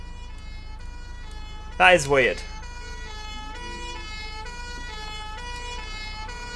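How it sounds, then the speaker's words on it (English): An emergency vehicle siren in the OMSI 2 bus simulator, heard as a steady, tonal wail running through the whole stretch beneath bus engine noise, with someone briefly speaking near the start. "These flipping sirens."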